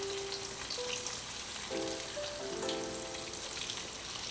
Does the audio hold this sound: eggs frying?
yes